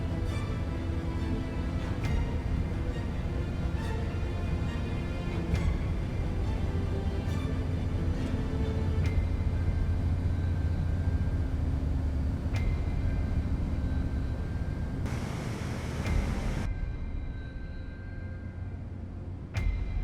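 Airbus A380 engines held at high thrust in Microsoft Flight Simulator 2024, a steady, loud jet roar with a broad rumble that stays constant throughout, with no talk.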